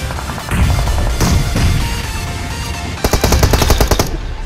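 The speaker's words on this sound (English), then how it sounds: "Machine gun." Machine gun fire in the BGMI battle royale mobile game, loud bursts of shots with a rapid evenly spaced volley of about a dozen rounds near the end, no voices.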